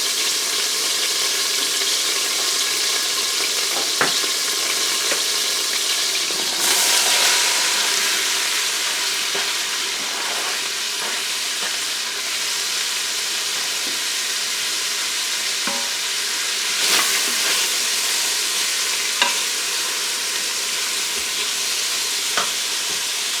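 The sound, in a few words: sautéing vegetables in olive oil in an Instant Pot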